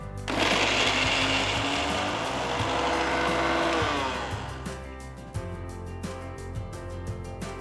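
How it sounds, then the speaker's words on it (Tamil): A mixer grinder grinding green chilies, garlic and ginger: a loud, steady mechanical whirring and grinding with a churning rattle that eases off partway through. "ஒரு மிக்சர் ஜாரில் 2ஆ உடைச்ச 5 பச்சை மிளகாய், நறுக்கின கொஞ்சம் பூண்டு பல்லு, நறுக்கின ஒரு பெரிய துண்டு இஞ்சி சேர்த்து நல்லா அரைச்சி"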